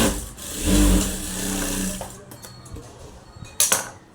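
A sewing machine runs in short bursts while stitching a folded blouse neckline seam, giving a close, whirring mechanical hum that stops and starts, with small clicks and handling knocks in the quiet gaps.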